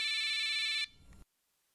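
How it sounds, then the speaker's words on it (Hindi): A telephone ringtone chimes brightly for under a second, then stops, followed by a brief low clatter and silence. "Rita, pick up the phone."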